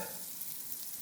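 Vegetables frying in a pan give a steady, soft sizzle throughout, with no voices over it.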